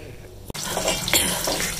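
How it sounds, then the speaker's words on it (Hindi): Tap water pours steadily into a vessel in a home kitchen while potato and bean vegetables are being cooked, a loud continuous rushing splash after a brief pause. "हम पानी भरेंगे।"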